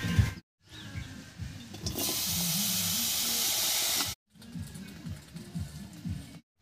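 Chopped bathua greens hitting a hot wok over a village earth stove, with a burst of loud hissing steam amid stirring and scraping, cut by brief silent gaps.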